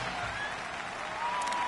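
Simulated stadium crowd roar from the American football video game Madden 19, a steady, loud wash of cheering and noise that holds without pause throughout.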